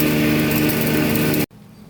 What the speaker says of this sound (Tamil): அரைக்கிறதுக்கு மிஷினில் போட்டாச்சு, அரைச்சி எடுத்துடலாம்.